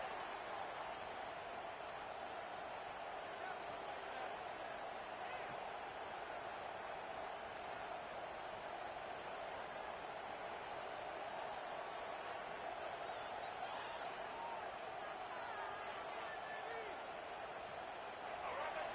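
A home crowd at a college football game roars steadily as the defense faces third down, a broad distant wash of cheering that swells slightly near the end.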